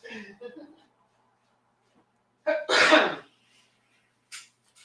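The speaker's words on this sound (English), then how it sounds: "I'm trying not to sniffle, but I cannot prevent the coughing." A person gives a single harsh cough after some faint breathy sounds, followed by a short, quieter cough-like burst near the end.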